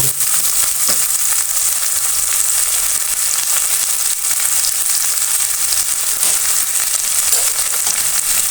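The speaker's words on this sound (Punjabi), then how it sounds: "ਪਿਆਜ਼ ਹਲਕੇ ਜਿਹਾ ਬਰਾਊਨ ਹੋ ਗਏ ਹੁਣ ਆਪਾਂ ਪਾ ਦੇਣੇ ਇਹਦੇ ਵਿੱਚ ਆਲੂ" Potatoes added to browned onions fry in a pan with a loud, steady, close sizzle and crackle that never lets up.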